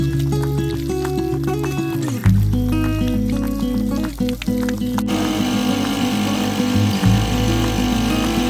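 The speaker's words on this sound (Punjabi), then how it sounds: "ਆਪਾਂ ਨੇ ਆ ਮੋਟਰ ਵਾਲਾ ਪੰਪ ਲੈਂਦਾ ਹੁਣ ਇਹਨੂੰ ਚਲਾਵਾਂਗੇ" A motor-driven water pump starts up for washing a combine harvester, its steady mechanical hum joined by a sharp jump in level midway, then running continuously with broadband spray-like hiss over the drone.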